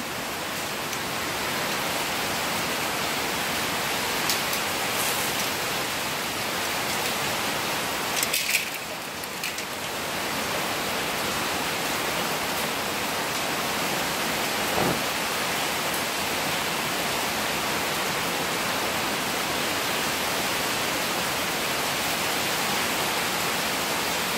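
Heavy rain pours in a flood-prone area as a constant dense hiss, broken only by a brief knock partway through and a faint thud later, with no one speaking.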